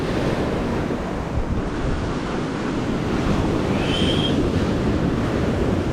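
Ocean waves wash and roll at sea near a small boat, with heavy wind buffeting the microphone in a continuous, loud roar and no talking.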